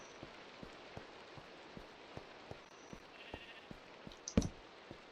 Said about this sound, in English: there's a sheep in here